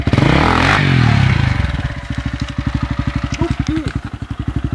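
A motorcycle engine is revved hard and loud at close range, the roar falling away into a steady pulsing chug as the throttle eases off, with people talking nearby.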